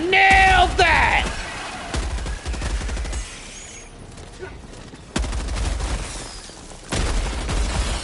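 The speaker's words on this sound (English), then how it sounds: "Throwing grenade. Oh, I nailed that!" A grenade blast and gunfire in the Helldivers 2 video game: several heavy booms and rapid gunfire bursts, loud and close, with brief voice chatter between them.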